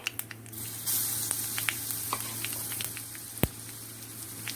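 Ginger, chili and garlic paste sizzles in hot oil for Gujarati kadhi, a soft continuous hiss with a few sharp crackles and spits, close by and fairly quiet.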